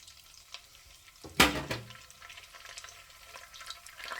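Ginger and garlic paste hits hot oil with cumin seeds, cloves and cinnamon over a low flame, giving a sudden loud sizzle burst that fades into a quieter crackling fry.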